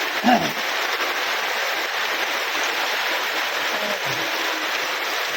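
Steady heavy rain with rushing, flowing water, a dense continuous wash of noise; a brief voice sounds near the start.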